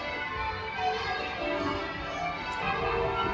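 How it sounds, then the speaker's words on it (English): Church bells ring repeatedly in London at a quarter past noon, a dense, continuous peal of overlapping strokes mixed with street ambience. "this church bells are going off like crazy"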